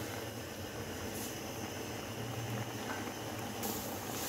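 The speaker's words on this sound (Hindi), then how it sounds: "ये देखें टमाटर हमारे पक रहे हैं।" Tomatoes simmer down into sauce in an open pot over medium heat, giving off a steady, close bubbling hiss that carries on evenly throughout with no voices.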